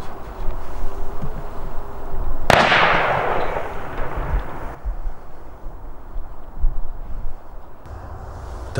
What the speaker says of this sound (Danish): Han får så skudt en af dem.